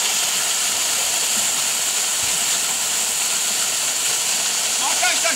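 Değirmenağzı waterfall near Kozlu roars as a dense, steady broadband rush of falling water, constant and close with no breaks.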